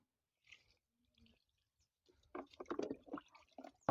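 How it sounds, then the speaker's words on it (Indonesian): Water poured generously onto the soil of a potted tree freshened with green-leaf compost: a few faint drips at first, then a louder, close splashing and trickling pour. "Kita siram banyak-banyak biar pohon ini kembali sehat."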